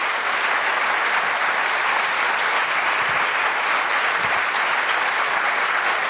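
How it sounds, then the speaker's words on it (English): Steady, dense applause fills a school academic awards ceremony as the audience claps for National Merit finalists and commended students, sustained at an even level throughout. "how about one more round of applause for our National Merit finalists and commended students"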